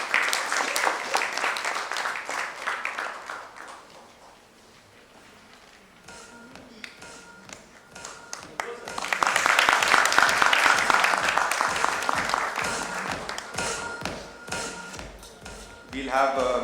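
Audience applause at a nursing conference inaugural session in a Mumbai hotel, building in two waves of dense clapping with quieter stretches between, and a voice talking over the early part.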